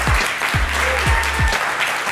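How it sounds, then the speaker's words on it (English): A studio audience at a comedy talk show applauds guest Dave Eastgate with dense, continuous clapping and a few heavy, thumping claps standing out, close and loud. "Keep that applause going for Dave Eastgate, everybody."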